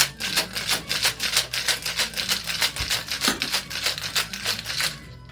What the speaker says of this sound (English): Shake with ice.